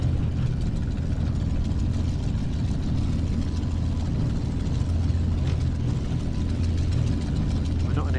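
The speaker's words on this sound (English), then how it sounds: "the engine should continue to run, which it does" Light aircraft piston engine running steadily during a magneto ignition check on a cool day, a constant low droning rumble close by with no break in rhythm and no talk.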